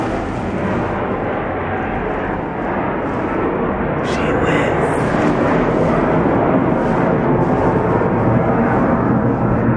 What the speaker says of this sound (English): there's like an airplane flying over us. It's really loud.